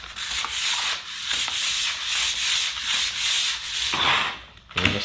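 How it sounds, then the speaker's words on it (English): A drywall sander on a stick fitted with coarse sandpaper scuffs an old epoxy garage floor in repeated rasping back-and-forth strokes, close and steady with short pauses between passes. "I'm just going to use a drywall sander on a stick with some coarse sandpaper."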